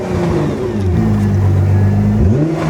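A warmed-up Nissan R35 GTR with an Armytrix exhaust revs twice from a steady idle, held under a 3,500 RPM limit. Each short climb and fall is close, loud and clear, with no voices.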